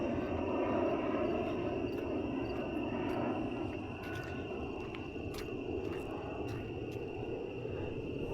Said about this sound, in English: We even have an airplane.